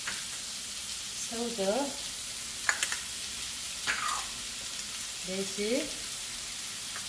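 Zucchini frying in a pan over high heat gives a faint, steady sizzle with a couple of light clinks, while someone talks over it at intervals.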